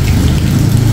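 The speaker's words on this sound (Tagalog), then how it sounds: "hindi naman masyadong malakas yung ulan, ambon-ambon pa lang naman siya" Light drizzle falls in Bangkok, a dense close hiss of fine drops pattering steadily over a brief moment with no pauses or voices.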